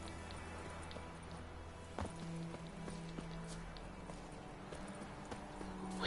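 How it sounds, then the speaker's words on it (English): Horse hooves clip-clopping in the video game The Witcher 3, a steady trotting rhythm at moderate distance mixed with ambient game sound, no speech. "Probably should have gotten my horse"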